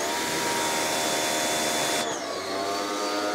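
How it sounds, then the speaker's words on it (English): A vacuum cleaner running with its nozzle pressed against a football, a loud continuous roaring whine up close that shifts in tone partway through as the airflow changes, with no talking. "I will demonstrate this nozzle using this football"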